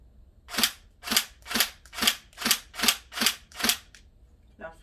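Tokyo Marui AK Strom airsoft rifle fired semi-automatically indoors, eight sharp evenly spaced cracks at about two per second, close and loud, followed by a faint click.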